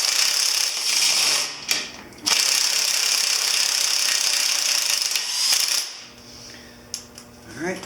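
Pulling the front wheel off a 1983 Honda CB1000 custom motorcycle, with metallic clinks and clattering mechanical ratcheting against a steady hiss, plus a few sharp knocks near the end.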